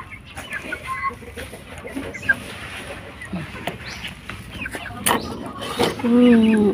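A sick mother hen and her chicks cluck in short bursts around a coop, with scattered rustling and a louder squawk near the end.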